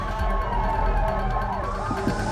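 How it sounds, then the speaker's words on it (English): An ambulance siren wails steadily over a busy UK street scene, with a continuous rumble of road noise underneath and no speech. "The ambulance are coming."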